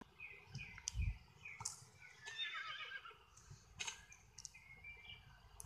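A horse whinnies faintly in the distance, with a few dull hoof thuds and light bird chirps around it.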